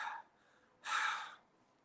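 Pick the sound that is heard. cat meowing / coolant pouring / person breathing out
person breathing out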